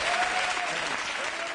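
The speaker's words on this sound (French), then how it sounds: "Mesdames et messieurs, je vous demande d'applaudir ma belle-sœur." A French television studio audience breaks into dense, steady applause for a guest from Copenhagen, loud and continuous throughout with no speech over it.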